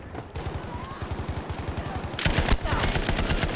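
Type 11 LMG light machine gun firing in Battlefield V: rapid sustained bursts of automatic gunfire, loud and close, growing denser and harsher toward the end.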